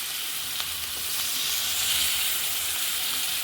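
Onion, garlic, chili and fish frying together in a pan for a Khulna-style home cooking dish, a steady loud sizzle with faint stirring clinks, no talk.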